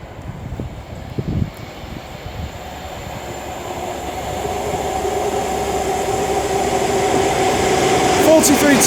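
A train led by HST power cars passes through Oxford station, its engine drone and rumble building steadily and growing louder, with brief talk early on.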